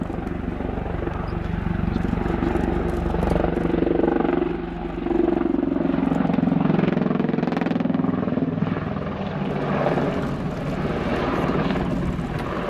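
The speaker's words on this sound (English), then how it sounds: "Demonstrating the awesome power of the two turbomeca engines mounted either side of the fuselage." Westland WAH-64D Longbow Apache AH1 helicopter with twin Turbomeca engines mounted either side of the fuselage, flying a display at an RAF air show, giving a loud, continuous rotor and turbine roar that swells and dips slightly, with a brief lull near the middle.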